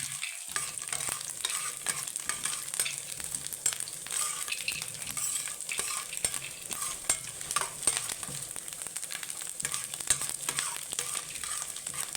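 Cashews fry in hot fat for rice payasam, a dense, continuous sizzle with stirring scrapes and occasional light clinks, close and steady throughout with no voices.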